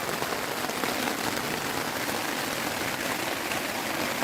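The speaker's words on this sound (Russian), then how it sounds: "хорошо, что успела до дождя разбить лагерь" Steady, dense patter of rain drumming on a taut tent, continuous and close, with no voices.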